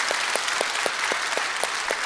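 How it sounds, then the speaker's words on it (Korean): Church congregation clapping in steady, rhythmic unison at a service, with sharp evenly spaced claps about four per second, alone with no talk. "박수 한번 하겠습니다"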